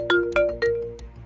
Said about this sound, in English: my phone rings